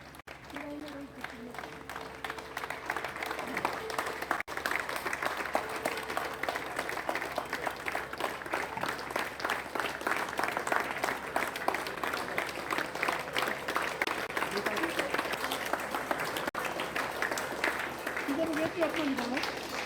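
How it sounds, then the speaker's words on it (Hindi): Crowd clapping steadily throughout as people welcome home police officers returning after recovering from Covid, with voices talking over the applause. "ताली बजाकर उनकी आरती करके उनके परिवार ने उनका स्वागत किया है"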